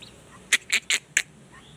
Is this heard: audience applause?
no